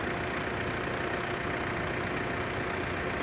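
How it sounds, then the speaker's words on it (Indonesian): Mitsubishi Pajero Sport engine running at a steady idle, a continuous even drone with a low rumble, close and fairly loud throughout, with no voices. "Maka setelah ini kita akan hidupkan engine."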